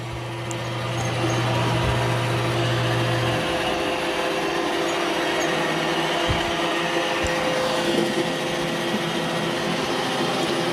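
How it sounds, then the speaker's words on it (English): An iRobot Roomba j9+ or i5+ self-emptying robot vacuum cleans a floor with a steady whirring motor hum, an initial low tone dropping away after a few seconds, and occasional soft bumps. "it's doing a good job vacuuming"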